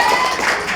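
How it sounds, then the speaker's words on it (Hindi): Classroom clapping for a student's answer at a government school, a short burst of several hands close by and fairly loud, brief and bright. "तालियां होनी चाहिए"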